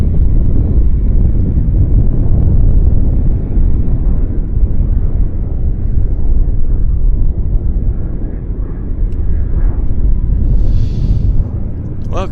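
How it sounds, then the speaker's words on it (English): A Q400 turboprop airliner on short final approach at Vancouver airport, a loud, sustained low engine roar mixed with wind buffeting, with brief talking under the drone. "We got a Q400 on approach right now."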